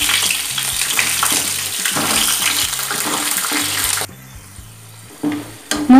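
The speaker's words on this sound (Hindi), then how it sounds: "इसके अंदर ये मूँगफली के दाने हैं, मैं ये डाल रही हूँ और इनको हल्का सा रोस्ट करेंगे।" Peanuts roasting in hot oil in a kadhai give a steady, loud sizzle that cuts out abruptly partway, followed by a few brief clatters and stirring sounds close by.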